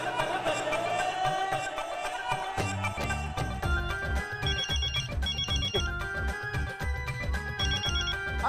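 A telephone ringtone plays as a busy melodic tune over rhythmic music, loud and continuous throughout.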